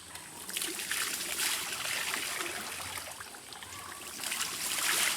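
Cold water of a village stream in Kalmakanda, Netrokona, during bathing, giving a continuous close trickle and babble with light splashes, swelling slightly near the end.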